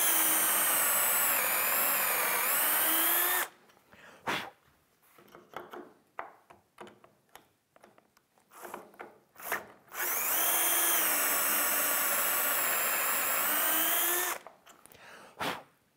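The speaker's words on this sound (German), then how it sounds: "Wir nehmen jetzt das größte Loch und bohren einfach wieder rein." A power drill whines loudly as it bores into wood in two long runs, separated by clattering and handling noises.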